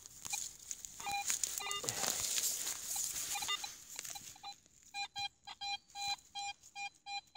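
Metal detector sweeping for buried objects while hunting for German helmets, giving a series of short, regular electronic beeps in the second half after a stretch of rustling and scraping.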